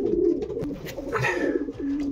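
Pigeons coo in a breeding loft, soft low throaty calls repeating close by with some faint rustling.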